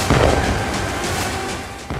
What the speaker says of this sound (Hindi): जोरदार धमाका होता है।